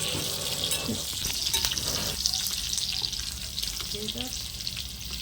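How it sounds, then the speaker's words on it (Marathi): Mustard seeds, cumin, garlic, curry leaves and chillies crackle and sizzle in hot oil in a kadhai, a loud continuous frying hiss with sharp pops and occasional stirring clinks, no talking. "तेल तापल्यानंतर त्यात राई, जिरं, लसूण, कढीपत्ता आणि मिरची घालून घेऊया"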